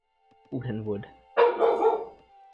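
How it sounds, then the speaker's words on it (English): A pet dog barks excitedly indoors, two close, loud bark bursts in quick succession, with a person's voice nearby. "Oh my god, my dog is going crazy."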